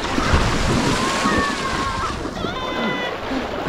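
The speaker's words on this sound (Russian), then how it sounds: "Ой, какая волна идет." Sea waves surge and crash at Mai Khao beach in Thailand, a continuous loud wash of surf and wind noise with people exclaiming excitedly over it.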